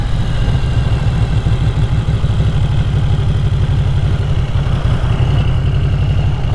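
A Yamaha VMAX 1700 motorcycle engine idles steadily and close, a loud continuous low throb with an even pulsing rhythm and no talk over it.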